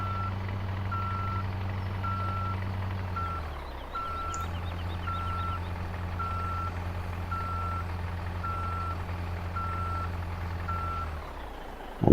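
A truck in Farming Simulator 17, on the PV Rivers reloaded map, sounds a steady repeating reversing beep, about one tone per second, over a low rumbling engine that briefly dips partway through.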